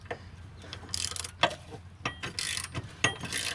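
A ratchet with a roughly 3/4 inch socket turns a bolt while installing a trailer hitch receiver under a vehicle, giving short bursts of clicking and metallic ticks, fairly close, with no talking.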